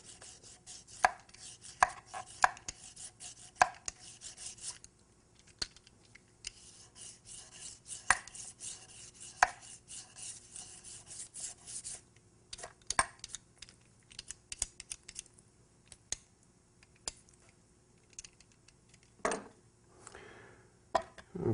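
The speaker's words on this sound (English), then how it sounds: "Okay, we're going to peel the cucumbers first." Cucumbers being peeled for Greek tzatziki, a run of light, crisp scraping and tapping strokes against a board, irregular and close, some in quick clusters with short pauses between, no talking.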